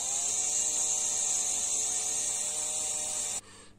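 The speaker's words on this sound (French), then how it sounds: "il va falloir que je perce dans ce sens-là" A drill bores a hole in a Saab 9-5 mirror part, making a close, steady high-pitched whine that stops abruptly near the end.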